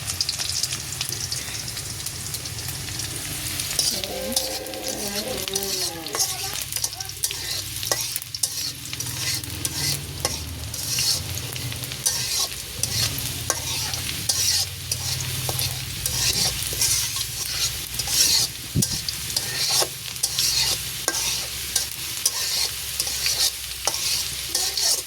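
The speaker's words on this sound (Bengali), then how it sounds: "পেঁয়াজটা আমি ভেজে নেব, তারপরে মশলা দিব।" Onions fry and sizzle steadily in a pan for a long stretch, with frequent stirring scrapes and clicks throughout, a brief voice-like murmur early on but no clear talk.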